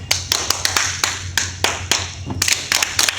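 An audience at a live magic show claps along, producing sharp, irregular bursts of hand claps from several people, fairly close and loud, with a steady low hum of the room underneath and no talking.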